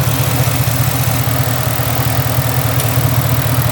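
Ford Coyote V8 engine idling steadily and close, a low pulsing rumble with a faint fine ticking from the fuel injectors layered over it; no voices.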